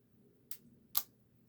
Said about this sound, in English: Very, very quiet shutter.